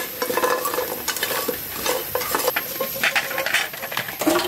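Bori lentil dumplings fry in a little oil with a dense, loud, continuous sizzle and crackle. Quick stirring scrapes and light clinks sound close up throughout, and no one speaks.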